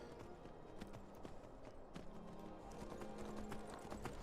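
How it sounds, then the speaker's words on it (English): Horse hooves in Skyrim clip-clop steadily on the road during riding, a quiet, even, rapid rhythm that runs throughout without talk. "you can essentially run a lot faster and a lot farther on a horse"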